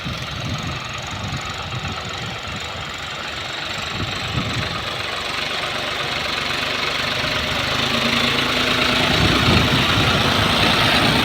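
Tractor engine working a field for laser land levelling, running continuously with a rough knocking idle that grows slightly louder over time, fairly close and with no talk.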